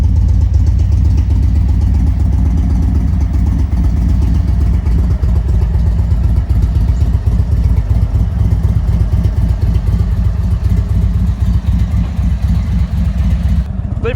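A motorcycle ridden along a road, its engine droning loud and steady throughout with constant wind rush and rumble, close and continuous.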